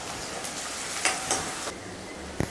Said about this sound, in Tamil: எண்ணெய் ஊற்றி எண்ணெய் காஞ்சிருச்சு. இதில் வெங்காயம் போட்டுக்கலாம்